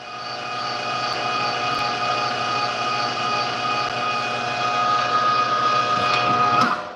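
A meat grinder grinds meat for jambalaya bratwurst with a steady, loud motor drone and whine that holds throughout and swells slightly near the end.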